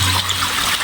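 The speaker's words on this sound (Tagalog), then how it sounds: "lakas ang tubig dito mga kaidol" Water gushes hard from a newly connected pipe at a commercial building construction site, a loud, continuous rushing splash heard alone for under a second.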